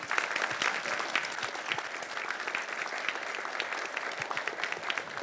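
Steady applause from a crowd, many hands clapping densely and evenly throughout, fairly loud and close.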